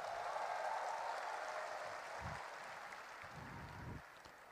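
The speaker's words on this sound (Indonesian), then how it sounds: "Belum selesai udah tepuk tangan." An audience at an Indonesian Gerindra party gathering breaks into steady, dense applause that fills the whole stretch and tapers only slightly near the end, with no talking over it.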